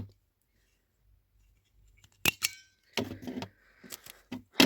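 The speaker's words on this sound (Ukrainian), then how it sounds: "І отак закріпляю степлером" After a quiet stretch, a few sharp mechanical clicks and crunches of a stapler fastening a paper bag come close by, with rustling in between.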